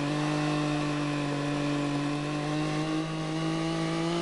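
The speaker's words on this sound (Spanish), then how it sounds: "Tiene sonido un cortacésped" A vehicle engine in Farming Simulator 22 drones with a buzzy, lawnmower-like tone, holding a constant pitch, loud and continuous throughout, with no one speaking.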